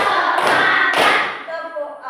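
An Indonesian primary science class claps together in a teacher-led counted pattern. Two sharp, loud group claps land about half a second apart, then fade into quieter voices.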